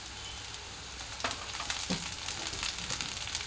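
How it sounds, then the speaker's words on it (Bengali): Onion and green chilli fry in a pan for Bengali-style dal, giving a steady soft sizzle with a few louder crackles and stirring scrapes. "পেঁয়াজটা আমার কিছুটা ভাজা হয়ে গেছে, এইবার আমি কাঁচা লঙ্কাটা দিয়ে দেবো।"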